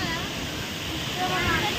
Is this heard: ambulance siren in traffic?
no